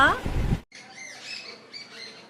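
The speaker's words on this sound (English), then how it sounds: "birds are also singing for you" Birds chirp and tweet in short, bright phrases outdoors, moderately near, after a brief burst of a person's voice at the start.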